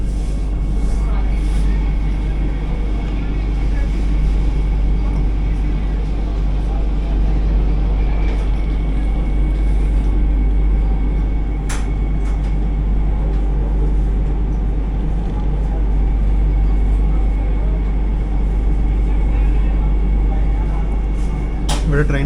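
Inside an AC chair car of the 20672 Madurai Vande Bharat Express running from Bengaluru Cantonment toward Madurai, a loud, steady low rumble and hum continue throughout, with faint voices at times.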